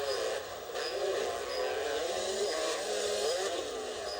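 Motocross dirt bikes at a Red Bull Straight Rhythm race rev hard in a continuous loud, buzzing engine drone with wavering pitch, heard at a distance over a crowded event ambience.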